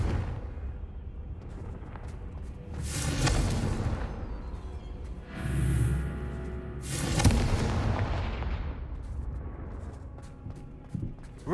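Confringo fire-spell blasts in Hogwarts Legacy, several booming explosive bursts spaced a few seconds apart over a rumbling game soundscape, with no talking.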